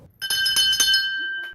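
A bell rung to mark the end of cancer treatment, several bright metallic strikes in quick succession with a sustained ringing tone that decays slowly, close and clear with no talking.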